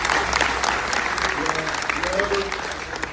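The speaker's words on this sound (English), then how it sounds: "One more big round of applause, Ryan." A crowd applauds Ryan Williams with steady, dense clapping for a few seconds, a faint voice rising briefly beneath it.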